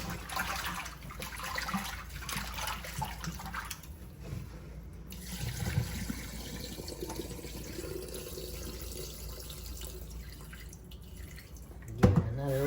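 Oxtail rinsed under running tap water, a continuous splashing stream with drips and sloshes, moderately close, with a louder splash near the end.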